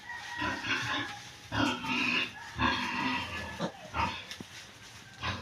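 Week-old piglets in a lamp-warmed pen, squealing and grunting in repeated close bursts with short pauses between, several voices overlapping into loud, shrill cries.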